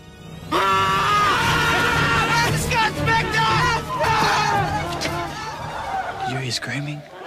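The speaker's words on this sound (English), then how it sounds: "You hear screaming?" A boy screams in a loud, continuous high-pitched wail, with clamouring voices and babble around him, the scream staying near and dominant throughout.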